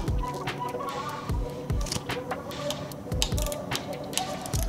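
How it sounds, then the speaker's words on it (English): A torque wrench ratchets in short clicking bursts while 5mm bolts on a Dolan TDT tandem track bike are tightened to 5 Nm, close and fairly loud, with a few repeated runs of clicks. "bring the torque setting down to 5 Nm for these 5mm bolts"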